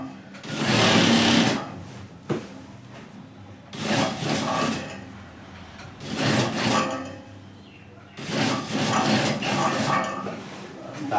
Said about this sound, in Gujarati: ધારી ચાંપની અંદરની સિલાઈ મારી દેવાની,